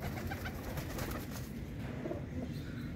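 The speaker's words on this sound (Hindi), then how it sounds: "कबूतर बड़े आ रहे हैं दोस्तों, ये देखें सारे लगे आ रहे हैं यार" A flock of pigeons arriving at a rooftop loft, cooing steadily and close by, the soft throaty calls overlapping continuously with no voices.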